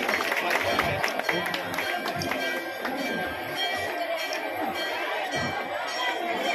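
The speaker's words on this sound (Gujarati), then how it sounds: "તાળીઓથી વધાવી લેજો." An audience at a gaushala honour ceremony welcoming guests gives scattered, continuous clapping amid crowd chatter, fairly close and moderately loud.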